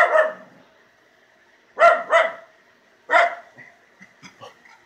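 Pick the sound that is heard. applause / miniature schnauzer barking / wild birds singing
miniature schnauzer barking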